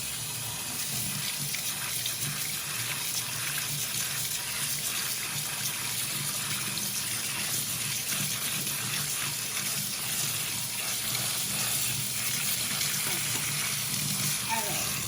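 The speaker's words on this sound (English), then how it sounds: "so we're gonna now strain this in the water." Tap water runs continuously into a kitchen sink while rice is strained through a colander for egg fried rice, a steady hissing stream with faint clatter and no talking.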